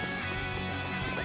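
A horse neighs and its hooves clip-clop in the video game Dynasty Warriors Origins, a brief whinny heard over dense, continuous game music and ambience.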